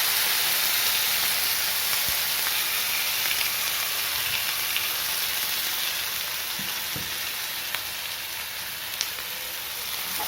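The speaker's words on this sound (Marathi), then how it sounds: "तेल सुटेपर्यंत हा मसाला मी तेलामध्ये शिजवून घेणार आहे" Ground red masala fries in oil in a pan for Veg Kolhapuri, a steady bright sizzle and hiss that holds evenly throughout, with a few soft clicks of stirring near the middle and end.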